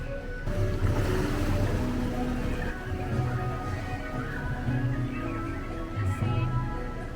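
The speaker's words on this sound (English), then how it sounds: "There's a lot of water rushing off that little drop there." Water rushes steadily off a small drop on a Legoland boat ride, a continuous close wash of splashing with a low hum underneath and no talk.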